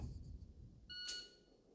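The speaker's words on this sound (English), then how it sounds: "That first beep is giving me that initial time to get the gun out" A single electronic shot-timer beep sounds during at-home dry-fire pistol practice, a short clear tone in an otherwise quiet room, preceded by faint low handling noise.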